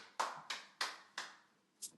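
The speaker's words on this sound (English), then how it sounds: "Round of applause, everybody." A handful of claps or hand slaps for a podcast guest on a comedy show, four sharp separate hits about a third of a second apart, then a softer fifth, close and fairly quiet with no talk.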